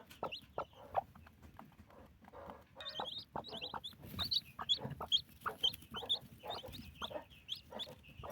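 A broody hen clucks near her chicks, a string of short low clucks at an uneven pace, joined midway by thin, high peeping calls that come in quick bursts, close and fairly quiet.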